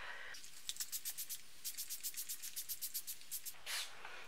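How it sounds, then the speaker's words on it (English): A pump spray bottle of Thirsty Curls leave-in curl revitalizer is sprayed onto a section of hair in a long run of quick, even, close hissing bursts, followed by one longer spritz. "I'm going to spray this section down with this spray"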